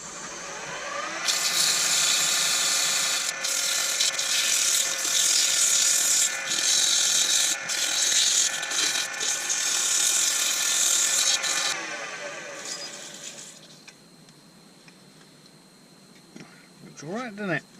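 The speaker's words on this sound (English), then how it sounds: "let's do a bit of sanding" Abrasive paper rubs against a spinning Banksia vase on a woodturning lathe, a steady loud hiss broken by brief dropouts, then the lathe winds down to a quieter hum with a few faint knocks.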